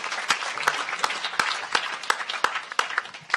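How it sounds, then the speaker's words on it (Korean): A room of spectators gives warm applause to a presenting team at a public audition for young ideas. Dense, steady clapping with crisp individual hand strikes punching through runs evenly throughout, fairly close and loud, with no voices over it. "넥스트 성감도 팀에게 다시 한번 따뜻한 박수 부탁드립니다"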